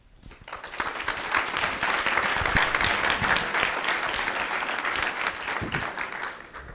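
A room full of people at a school board meeting applauds, clapping rising quickly to a steady, dense patter and then slowly tapering off.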